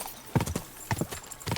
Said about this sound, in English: This horse just isn't quick enough.